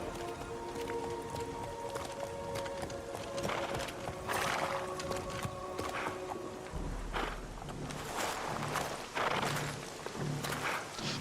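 Horse hooves thud in Castlevania: Lords of Shadow, a steady gait under a dense, busy game soundscape that runs the whole time.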